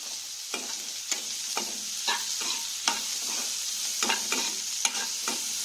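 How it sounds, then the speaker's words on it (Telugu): Onions sizzle steadily in hot oil with a little salt for a mung dal fritter curry, a constant fry hiss broken by regular sharp scrapes of a stirring spoon, close and fairly loud, with no voices. "ఇలా ఉల్లిపాయ వేగేంత వరకు వేయించుకోవాలండి."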